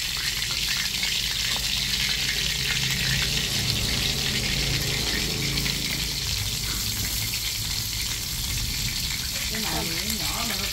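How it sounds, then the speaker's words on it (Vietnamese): Rats frying in a pan over a cooking fire outdoors, a steady loud crackling sizzle with oil spatter that runs throughout, with voices talking faintly underneath. "cái chảo này chiên được có hai con à vợ"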